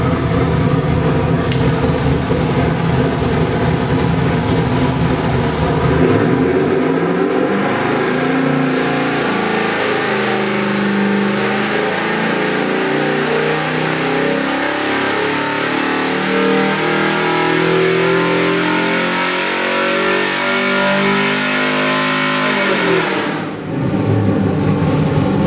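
A 1967 Mustang with a multi-port fuel-injected 347 stroker crate engine and an experimental exhaust revs up hard, rising into a long sustained high-rpm roar before cutting off sharply near the end, loud and close.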